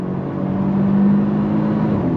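A 2024 Genesis G70 3.3T sedan in Sport Plus mode accelerates on throttle, its engine drone steady and strong from inside the car, holding a sustained tone with no talking.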